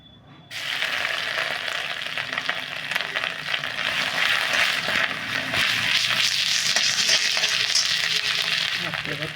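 Ginger sizzling and crackling in hot oil tempered with cumin seeds and bay leaves, a steady loud frying hiss that starts abruptly and continues throughout, with faint stirring scrapes.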